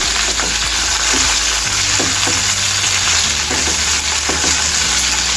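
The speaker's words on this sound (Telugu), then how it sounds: "ఇప్పుడు కట్ చేసి పెట్టుకున్న పచ్చిమిర్చి ముక్కలు, ఇవన్నీ ఇలా ఒకసారి ఫ్రై అవ్వాలండి" Chopped green chillies and coriander seeds fry loudly in hot oil in a pan while tempering for gongura dal, a close, constant sizzle and crackle with occasional soft stirring.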